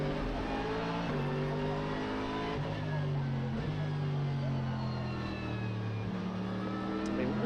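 Race car engine roaring down the pit straight at Fuji during a Japan Cup race, sustained high revs with repeated gear changes as the pitch climbs and drops, while commentary continues over the top.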